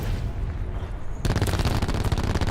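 Rapid bursts of gunfire in the battle royale video game Call of Duty Blackout, building from a muffled rumble into loud, dense shooting.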